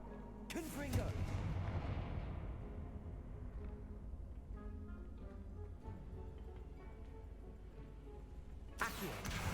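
Confringo blasting spell from Hogwarts Legacy erupts with a sudden bright blast that rolls into a lingering rumble and crackle, followed by another sharp burst at the close, all at moderate level.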